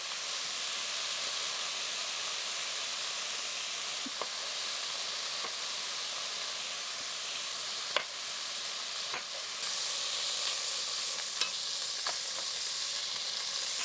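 Quartered yellow onion chars in a hot pan with a steady loud sizzle and hiss, broken by a few soft scrapes and clicks of stirring, and the frying grows a little louder toward the end.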